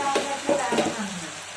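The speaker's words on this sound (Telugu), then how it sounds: "ఇప్పుడు ముందుగా కట్ చేసి పెట్టుకున్న టమాటా ముక్కలు వేసుకుందాం" Chopped tomatoes go into okra curry frying in a pan, giving a close, brief burst of sizzling with a few quick ladle scrapes, then settling into a softer hiss.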